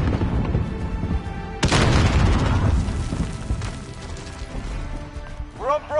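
A grenade explosion from Call of Duty Modern Warfare gameplay: a sudden loud boom bursts in and rolls into rumbling debris, set among ongoing game noise, gunfire and other battle effects.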